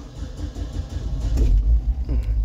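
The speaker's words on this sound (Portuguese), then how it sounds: "eu vou ligar o carro agora" A car engine cranking and catching on a cold day, a low rumbling turnover that swells into a steady close idle, with no voices over it.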